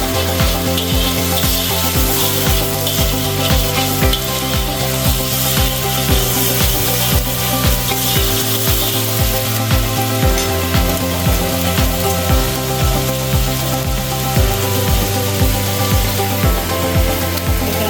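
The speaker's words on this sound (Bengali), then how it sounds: "ভালো করে কষিয়ে নিচ্ছি যাতে রসুনের গন্ধটা না থাকে" Garlic and spices sizzle steadily in hot oil in a pan for a traditional tilapia and tomato curry, a continuous hiss running under louder background music.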